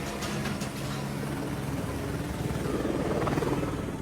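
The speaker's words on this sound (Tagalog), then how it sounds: "Ang usa ka helicopter ilabihang kaubos ang pagpalupad ug duol na sa atop sa building sa Jose Maria College" A helicopter flying very low near the roof of the Jose Maria College school building, its loud rotor chop and engine roar filling the whole stretch steadily and close.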